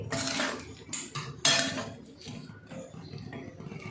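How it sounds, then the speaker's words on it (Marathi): Finely chopped capsicum is tossed into a pan of fried potatoes, bringing loud metallic clatters of a utensil against the pan, then quieter scraping and stirring. "आता याच्यामध्येच ही बारीक जी चिरलेली शिमला मिरची आहे ही टाकून घेते आता हिला बी चांगलं तळू द्यायचं आहे"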